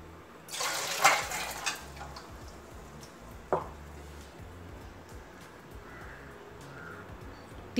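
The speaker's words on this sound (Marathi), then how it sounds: "परत 2 ते 3 पाणी घालून परत स्वच्छ धुवून घ्यायचे आहेत" Running water splashes and sloshes in a pot as mutton trotters are rinsed clean, with a louder gush near the start and softer trickling afterward, close by and with no speech.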